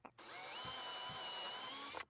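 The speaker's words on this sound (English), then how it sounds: "Now I'm just going to use a stepper drill to make this hole a bit bigger" A power drill spins a step drill bit to enlarge a hole, giving one continuous whine of about two seconds that starts and stops sharply, heard alone at close range.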